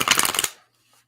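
A deck of cards is shuffled by hand during a three-card reading: a quick, close run of soft papery riffling for about half a second, then quiet.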